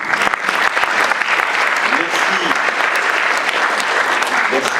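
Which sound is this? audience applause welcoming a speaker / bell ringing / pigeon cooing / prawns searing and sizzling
audience applause welcoming a speaker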